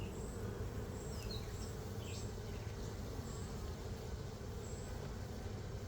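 Honey bees hum at an apiary hive in hot, humid weather, a soft, steady low buzz with a few faint passing whines from individual bees, no voices.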